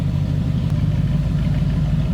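A 1936 Ford Deluxe Tudor sedan's flathead engine idling, a loud, steady low rumble with an even, lumpy pulse, close and alone.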